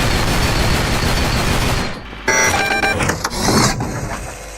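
Gunfire in the Roblox horror game Pressure: a steady, loud stream of rapid shots that drops out briefly, then returns as sharper, separated cracks with metallic ringing.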